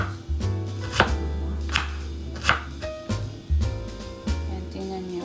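A knife chops celery and onion on a cutting board for spring rolls, sharp close thuds at a steady, unhurried pace, about eight strokes with no talking.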